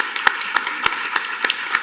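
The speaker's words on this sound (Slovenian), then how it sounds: "mislim, da si zaslužijo aplavz." A short burst of sparse applause from the audience at a library services conference, individual claps distinct and fairly close, marking a 20th birthday celebration.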